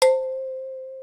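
Single synthesized note at C3 from a Padshop 2 preset with fixed pitch: a bright metallic attack that settles into one clear sustained tone, holding steadily and fading slightly for about a second.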